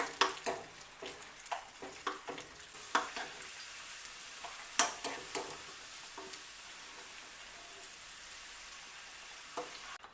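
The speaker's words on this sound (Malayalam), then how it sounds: "നെയ്യിലേക്ക് നമുക്കിനി കശുവണ്ടി പരിപ്പും ഉണക്കമുന്തിരിയും എള്ളും കൂടി ഇട്ട് നമുക്കൊന്ന് മൂപ്പിച്ചെടുക്കണം" Cashews, raisins and sesame seeds frying in ghee, with a soft steady sizzle and intermittent stirring clicks and scrapes of a spoon in the pan, close and fairly quiet, no talking.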